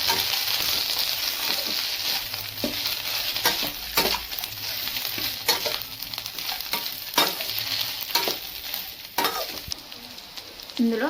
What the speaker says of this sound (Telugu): అల్లం పేస్ట్ పచ్చివాసన పోయే వరకు వేయించుకోవాలి